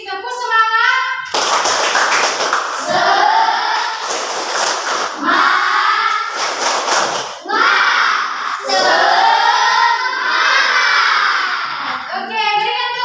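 A classroom of schoolchildren performs a rhythmic spirit clap, bursts of clapping in patterned groups mixed with loud chanting voices, close and energetic throughout.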